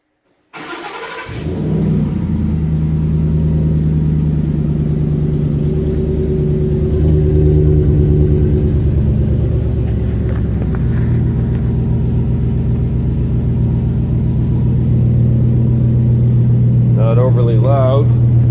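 A Ford F150 with a 5L V8 and welded Thrush muffler dual exhaust cranks, fires and settles into a deep, steady rumbling idle, with a few throttle blips swelling the tone; brief voices and a faint chirp appear near the end.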